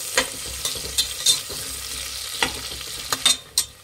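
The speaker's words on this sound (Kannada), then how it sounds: "ಎಣ್ಣೆಲಿ ಚೆನ್ನಾಗಿ ಈರುಳ್ಳಿನ ಫ್ರೈ ಮಾಡಬೇಕಾಗತ್ತೆ" Onions frying in hot oil in a pan for veg masala kushka rice, a continuous sizzle broken by sharp clinks and scrapes of stirring at irregular intervals, close and clear with no talk.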